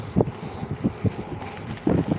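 Headwind buffets the microphone of a vintage bicycle ridden along the road from Hull to Hornsea, a steady rushing roar broken by low gusty thumps.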